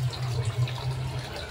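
Running tap water while washing a Honda Click V3 scooter, a steady close splashing hiss with a low hum underneath, continuous and unbroken with no talking.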